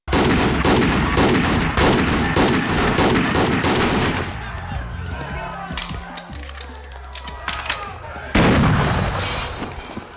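Desert Eagle pistols fire in a shootout scene from the film Belly, producing a loud, dense barrage of shots and crashing impacts, a quieter stretch with scattered bangs, then another loud burst, with voices mixed into the action.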